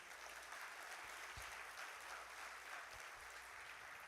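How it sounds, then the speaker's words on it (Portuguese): Faint, distant applause from a church congregation during a sermon, a continuous soft wash of clapping that holds steady without any talk. "Você podia aplaudir o Senhor por isso?"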